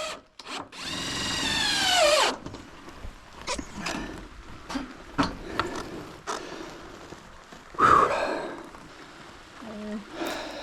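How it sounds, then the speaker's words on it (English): A power drill whirs in short bursts while pre-drilling screw holes, rising in pitch as it spins, with scattered knocks and rustling around it. "I ended up pre-drilling every hole"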